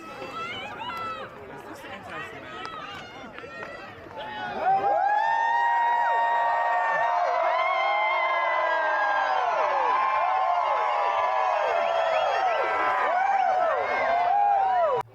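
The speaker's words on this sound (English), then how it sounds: "The chanting and hollering matched the flames." Crowd at a Fasnacht bonfire in Helvetia, West Virginia, chatters at first, then breaks into loud, sustained hollering and whooping voices that carry steadily to the end.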